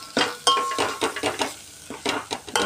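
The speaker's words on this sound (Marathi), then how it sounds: "आता आपण त्याच्यामध्ये कांदा लसूण मसाला, गरम मसाला, मिरची पावडर घालून पुन्हा एकदा असं मिक्स करून घेणार आहे" Onion-garlic masala, garam masala and chilli powder are stir-fried in oil for puran poli filling. A spoon scrapes the pan in quick repeated strokes over a steady close sizzle, with no voices.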